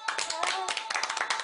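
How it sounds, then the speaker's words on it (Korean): A small group claps along in quick, uneven hand claps, fairly close and modest in volume, with a voice and some tonal background sound running underneath. "진짜 박수 한번 갑시다"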